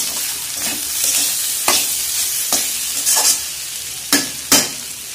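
Vegetables being stir-fried in a home kitchen pan, a steady sizzle broken by several sharp scraping strokes of a spatula against the pan, close and loud with no talking.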